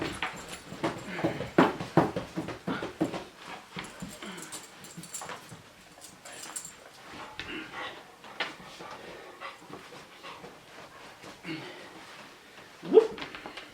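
Dogs at an off-grid cabin give short whimpers, pants and yips, with one sharper bark-like burst near the end, while a person talks softly between the sounds.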